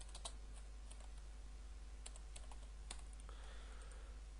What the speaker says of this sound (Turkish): Ben kendi adımı soyadımı yazıyorum.